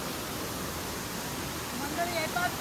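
Asaniye waterfall in Konkan, its water pouring over moss-covered rocks, gives a steady, close, broadband rush that fills the whole stretch, with a faint voice rising near the end.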